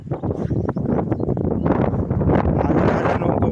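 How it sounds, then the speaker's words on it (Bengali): Wind buffets a microphone beside a river with moored boats, a loud, continuous low rumble that surges and gusts unevenly throughout. "হাওয়া বইছে, যদিও কথাগুলো হয়তো ডিস্টার্ব হতে পারে।"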